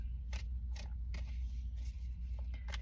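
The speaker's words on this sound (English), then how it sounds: "And as you can hear, I am shuffling with my tarot deck today." A tarot card deck is shuffled by hand: quick, soft papery flicks in short repeated bursts, close but quiet over a low steady hum.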